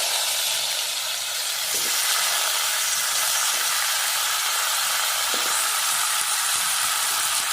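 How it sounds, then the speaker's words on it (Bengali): Raw mango pieces dropped into hot oil with panch phoron spices for a sweet-sour chutney, giving a loud, steady, continuous sizzle and hiss with faint pops, and no voices. "আমগুলো ধুয়ে নিয়েছি ভালো করে দিয়ে দেবো এক এক করে তেলে"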